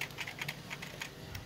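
Keys on a Koyo KY-888 gaming keyboard being clicked one after another as all its buttons are tested, a steady series of sharp, close plastic clicks with no one speaking.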